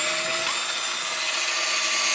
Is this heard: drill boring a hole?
yes